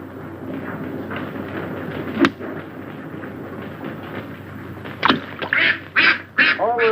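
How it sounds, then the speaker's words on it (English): Several loud, close quacks from ducks at a golf course burst out near the end, following steady background chatter and a single sharp crack. "Those ducks are throwing me off."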